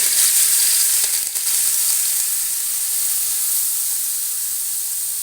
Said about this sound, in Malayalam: അല്പം കറിവേപ്പില ഇട്ട് കൊടുക്കാം ഇനി നമുക്ക് മിക്സ് ആക്കി വെച്ച ഈ ചുണ്ട് ചേർത്ത്